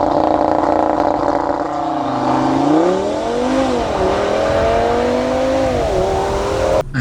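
A 2018 Audi RS3 Sedan being driven pulls with a loud, close engine note that climbs and dips through several throttle changes and shifts, staying strong to the end.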